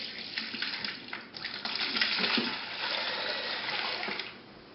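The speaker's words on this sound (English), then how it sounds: "So we just slowly pour this into our yeast." Warm milk and water poured slowly into instant bread yeast in a mixing bowl, a steady close liquid splash and trickle lasting several seconds, with no talk.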